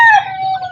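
A brief, close call from a rooster or hen on a farm, a sharp rising squawk that settles into a short sustained tone.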